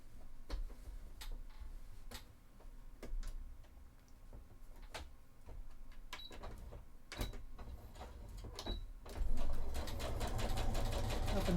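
A sewing machine stitches a cosplay shirt in short ticking bursts with pauses between, then runs steadily and louder toward the end.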